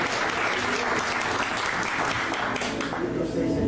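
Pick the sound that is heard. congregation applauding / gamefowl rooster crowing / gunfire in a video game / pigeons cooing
congregation applauding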